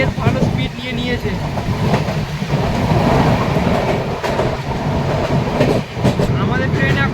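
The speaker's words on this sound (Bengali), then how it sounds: "এনজেপি থেকে ছাড়ার পরই ট্রেন বেশ ভালো স্পিড নিয়েছে।" The Karmabhoomi Express, Kamakhya to Mumbai LTT, runs at speed after leaving NJP, heard from inside the coach as a loud continuous rumble with rhythmic clickety-clack of wheels over rail joints and occasional sharp knocks.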